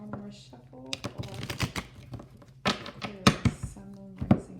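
A tarot deck shuffled up close, producing irregular clusters of sharp card taps and riffles, fairly quiet, with a voice speaking intermittently between the bursts and a low hum beneath.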